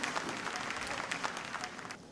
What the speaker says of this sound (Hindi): मैं चाहूँगी हमारे एक्सपीरियंस ज्यूरी मेंबर के लिए एक बार जोरदार तालियां हो जाएं